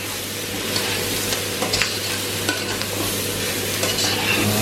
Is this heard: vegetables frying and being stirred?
yes